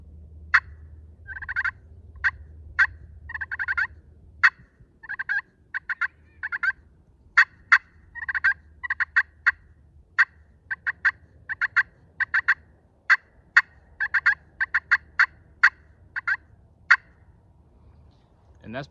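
Sharp clucks and short yelps from a slate turkey call, scattered irregularly, some in quick pairs, close up and loud over a quiet background.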